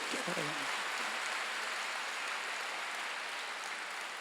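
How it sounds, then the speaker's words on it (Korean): A church congregation at a Sunday worship service claps, a soft, dense wash of applause that continues evenly, with a short bit of voice at the very start. "깨달은 사람만 세게 한번 박수 쳐보세요"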